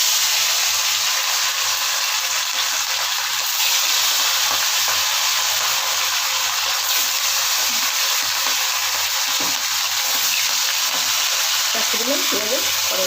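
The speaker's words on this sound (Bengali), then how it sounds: "এবারে মাছগুলি দিয়ে ভেজে নেবো, বেশি ভালো ভাজবো না, হালকা ভাজবো।" Sea fish sizzle steadily as they fry in hot oil in a pan, giving a loud, close, continuous crackle and hiss with a little stirring throughout.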